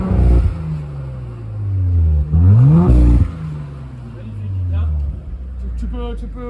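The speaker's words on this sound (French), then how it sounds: "vous entendez quand il passe en RS, il y a un petit ouverture des valves" Car engine revving hard in RS mode with exhaust valves opening, loud and close, several rising and falling revs with a sharp blip midway; someone talks over it.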